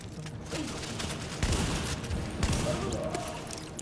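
Sawed-off shotgun fire in the video game The Division: two sharp, loud blasts about a second apart, ringing over a steady bed of busy combat ambience.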